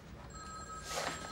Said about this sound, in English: My phone's ringing, Greg.